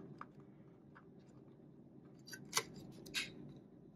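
A cutting tool snips twice, sharp and close, against faint background hum, with a few softer clicks from handling before the cuts while working on a 1955 Ford truck.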